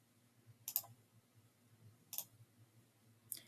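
A mouse button clicks three times, sharp and faint, spaced about a second and a half apart over a low steady hum, with no talking.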